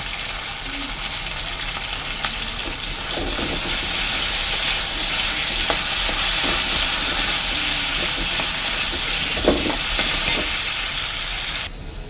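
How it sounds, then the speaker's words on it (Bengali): Potatoes with a little turmeric frying in hot oil make a loud, continuous sizzle and hiss up close, with occasional sharper pops and spatters and no voices. "আলু আমার ভাজা হয়ে গেছে"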